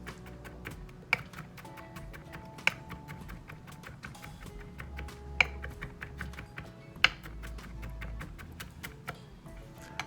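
A knife taps rapidly on a cutting board as garlic is diced and minced for crab fondue, a close, steady run of light chops with a few sharper knocks, no talking.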